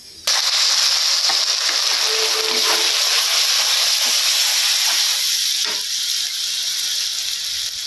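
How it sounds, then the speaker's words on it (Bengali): A paste of ground onion, ginger and garlic with turmeric, chili powder and salt fries in a pan with a loud continuous hissing sizzle and occasional faint stirring knocks, with no voices. "এদিকে মশলা আমি রেডি করে রেখে দিছি পেঁয়াজ বাটা আদা বাটা রসুন বাটা হলুদ মরিচ গুঁড়া লবণ অনেক একসাথে কষিয়ে নিই"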